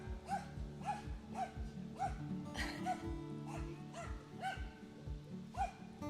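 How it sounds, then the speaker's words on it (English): A dog barks repeatedly in a steady rhythm, about a dozen sharp barks roughly half a second apart, moderately distant, over a low droning background. "Crazy dog there."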